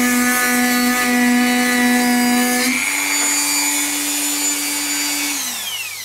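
Dremel 4000 rotary tool grinding a chamfer into a wood workpiece, a steady high whine with strong harmonics that drops in pitch partway through as the wheel bites, then winds down near the end, close and loud with no talk.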